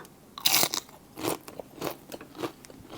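Fried crispy rice snack is bitten and chewed close up, giving a sharp crackling crunch at the first bite followed by several rhythmic, slightly softer crunches.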